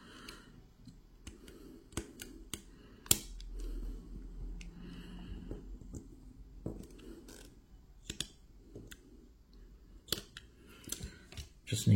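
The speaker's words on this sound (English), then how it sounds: "let's try and expose the cable without cutting it all off" Sparse, quiet snips and sharp clicks of a cutting tool working around a cable, scattered irregularly over low background noise.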